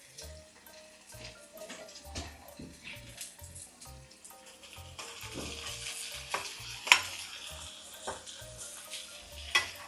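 Chopped onions, green chillies and curry leaves being sautéed in a pan, soft frying hiss under a repeated rhythmic tapping and scraping of a spatula, the stirring growing busier toward the end, fairly quiet and close.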